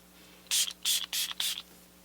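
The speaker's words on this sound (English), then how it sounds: "I'm gonna go back to my Catrice Prime and Fine Dewy Glow Fixing Spray." A Catrice Prime and Fine Dewy Glow Fixing Spray mist bottle is pumped four times in quick succession, each a short, close, bright hiss with brief gaps between.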